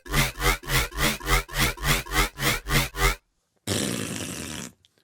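Serum dubstep/riddim phase bass with an extra waveform layered in, heard as about a dozen loud, evenly spaced wobbling pulses, then a short silence and one sustained gritty synth burst.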